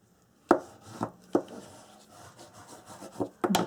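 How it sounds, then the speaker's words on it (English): Paper being burnished down onto album matting with a tool, giving several sharp rubbing and tapping strokes at irregular intervals, close and fairly quiet. "So I'm going to burnish that down."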